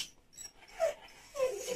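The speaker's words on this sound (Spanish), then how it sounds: "Se pone a aullar y Ricardo está dormido." A dog whimpers and lets out short howling whines, two brief rising cries separated by quieter breathy pauses, fairly close but not loud.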